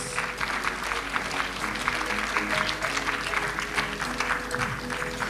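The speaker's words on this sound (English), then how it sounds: "Can we give her a big round of applause?" Sustained applause from a crowd, steady clapping throughout at moderate loudness, with a faint murmur of voices underneath.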